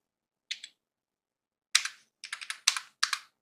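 Computer keyboard keys clicking as an Excel formula is typed: a lone pair of taps, a pause, then quick bursts of crisp keystrokes, close and fairly quiet, with no talking.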